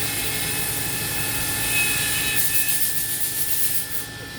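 A 2006 Hurco VM2 CNC mill spindle spins at speed with a steady high-pitched mechanical whine over a constant machine hum, loud and close, no talking.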